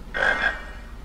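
A single short frog croak from the Harry Potter and the Chamber of Secrets video game, a brief tonal ribbit heard close and clear over quiet background.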